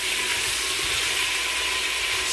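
Goat meat sizzling as it stir-fries in a pot for Jamaican-style brown stew goat, a steady close hiss of frying with faint scraping underneath.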